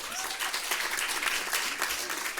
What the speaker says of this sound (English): Please give a round of applause to our students.